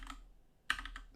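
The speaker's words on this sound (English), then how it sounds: "I'm going to actually type this out with you" Fingers tap out a short burst of keystrokes on a computer keyboard, close and quiet, with a brief pause before a sharper cluster of clicks.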